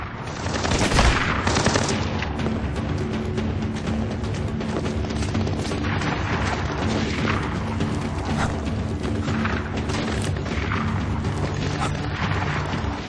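Sustained gunfire in the stealth shooter Splinter Cell Blacklist: dense, loud bursts of automatic fire and thumps that keep going without a break.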